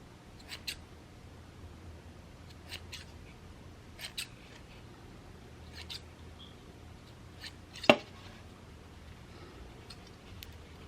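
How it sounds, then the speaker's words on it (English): Small scissors snip thread on a handmade dog toy in a few sparse, quiet clicks, with one sharper, louder snip near the end amid soft rustling. "Cut that thread."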